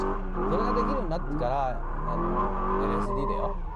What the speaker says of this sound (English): the basic techniques of sliding the car from a simple tail slide to a power slide